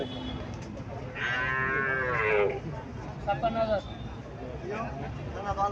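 A crossbred bull calf moos loudly in a drawn-out call at a cattle market in Mainamati, Comilla, then gives a few shorter bleating moos, with a busy crowd murmuring in the background throughout.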